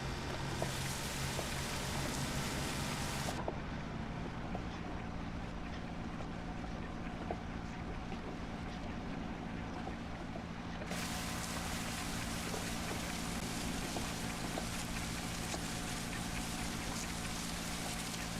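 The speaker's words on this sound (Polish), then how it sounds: "Włączamy tą zbieraczkę." A tractor pulling a hay rake runs in the farming video game Pure Farming 2018, a steady mechanical engine drone with a noisy wash that shifts in tone partway through and then returns, with no talking.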